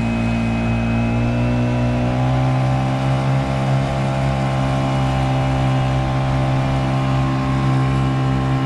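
A Honda 5 outboard motor wound up to high revs on a Nucanoe Pursuit fishing kayak drones loud and steady up close, its engine tone holding constant with a faint rise in pitch.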